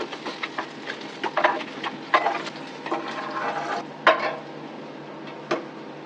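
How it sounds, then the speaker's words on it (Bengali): Pabda fish frying in hot oil, with sharp spits and pops scattered irregularly over a steady close sizzle. "দেখেন পাবদা মাছ কিভাবে ছিটে"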